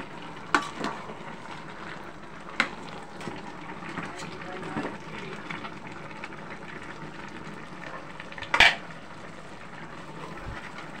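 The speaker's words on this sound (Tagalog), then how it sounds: "haluin natin" Taro simmering in a pot, cooking with pork skin and smoked fish, gives a soft steady sizzle and bubbling, broken by a few sharp spoon scrapes and clinks as it is stirred.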